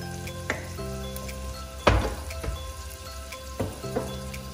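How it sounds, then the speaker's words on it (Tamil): Onions sauté with salt in a pan, giving a soft, continuous sizzle broken by a few sharp clicks and scrapes of stirring. "இந்த வெங்காயம் வதங்குறதுக்கு தேவையான அளவுக்கு உப்பு வந்து நான் சேர்த்துக்க போகிறேன்."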